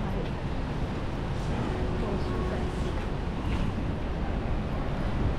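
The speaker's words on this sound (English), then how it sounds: "Waikiki Beach." Surf and wind at Waikiki Beach on an overcast day, a steady close wash of waves and breeze with faint speech in the background.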